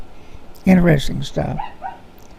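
A dog named Biggie barks outdoors, a few harsh, loud barks followed by softer yelps, close-sounding and mixed with a voice in the room.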